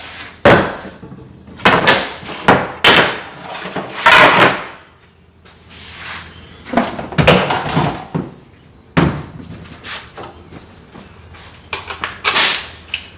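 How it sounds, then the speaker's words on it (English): A wooden border is nailed and glued onto a plywood countertop for a teardrop camper, with loud, close, irregular knocks and bursts of handling that come in clusters with brief pauses between them. "let's get this border nailed and glued on first"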